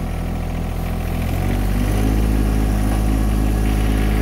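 A tractor engine runs in low gear with four-wheel drive engaged, a loud, steady close-up drone that deepens and grows fuller partway through, with no talk.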